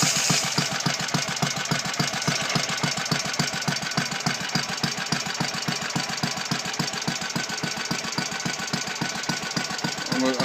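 An old cast-iron Clinton small engine with a clutch, running a little smoky, chugs steadily at idle for the whole stretch, each firing stroke a distinct rhythmic knock close to the listener.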